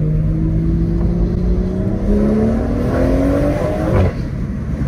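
A BMW M140i with Stage 2 tune and Akrapovic exhaust accelerates hard, engine pitch climbing steadily before a sharp gear change with a crack near the end, loud and close from inside the car.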